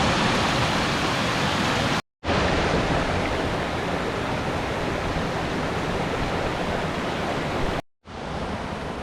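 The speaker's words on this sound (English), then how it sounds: "the water is just surging over the waterfall" Waterfall at Coopers Rock State Forest, water surging over the drop in a loud, steady roar close by, broken by two brief cuts to silence.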